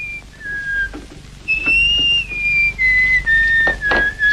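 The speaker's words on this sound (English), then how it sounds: "Gentlemen, don't whistle in the house." A person whistles a clear, sliding melody indoors, each phrase held then stepping down in pitch, fairly close and loud, with a faint room hum underneath.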